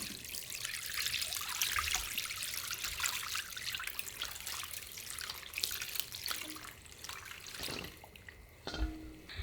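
Liquid is poured over salted napa cabbage for white kimchi, a steady splashing, trickling wash that fades near the end, close up, with no talking.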